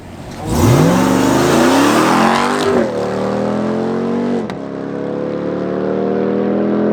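A powerful 2021 RAM TRX pickup truck engine roars hard as it launches, revving loudly and rising in pitch through a gear change, then holding a steady loud drone.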